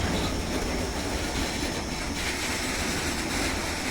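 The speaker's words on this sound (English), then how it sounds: "Goods train running without guard." An Indian Railways goods train of hopper wagons runs along the track with a steady, dense rumble and clatter of wheels on rails, continuous and fairly close for several seconds.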